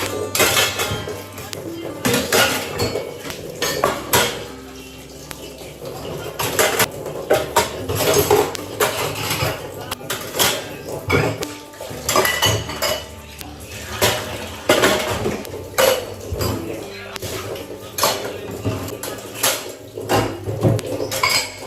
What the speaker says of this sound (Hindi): तो सबसे पहले मैं बर्तन ही वॉश कर लूँगी